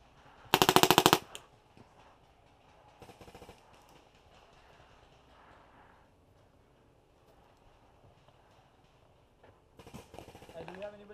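Paintball markers firing at an outdoor jungle-style field, a loud close rapid burst near the start, a brief volley later and another burst at the end, with faint background activity and voices between.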